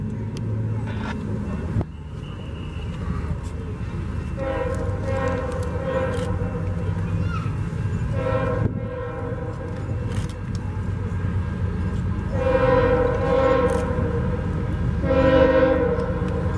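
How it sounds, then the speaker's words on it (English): A coal train rumbles steadily past while its horn sounds in several blasts, the last ones louder and longer, with a low continuous roar underneath. "I think it's a coal train."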